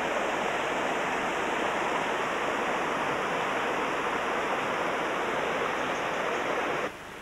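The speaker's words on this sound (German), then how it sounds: "Im Wasserfall." A waterfall on Ko Samui, Thailand, roars as a loud, unbroken rush of water that stays steady and dense for several seconds before dropping off abruptly at the end.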